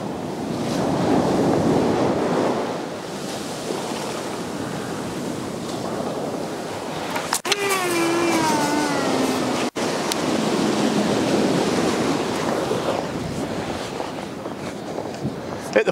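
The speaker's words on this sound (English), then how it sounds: "You'll see when the breakers are starting to hit, I want to try and get past that." Sea waves break and wash on a steep shingle beach at Aldeburgh, a loud continuous roar of surf with heavy wind buffeting the microphone throughout.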